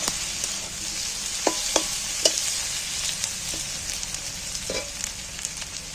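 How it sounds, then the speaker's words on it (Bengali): Chopped tomatoes frying with onions in a pan, a steady close sizzle with a few sharp scraping stirs of a spoon, no talking. "টমেটোগুলো পেঁয়াজের সাথে একই সাথে ভেজে নিচ্ছি।"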